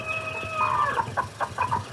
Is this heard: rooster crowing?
yes